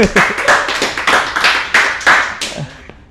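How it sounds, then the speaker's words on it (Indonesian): A small audience at an Indonesian stand-up comedy show claps in a quick, uneven burst of sharp, close hand claps lasting a few seconds, with a faint voice near the end. "Tepuk tangan untuk mereka."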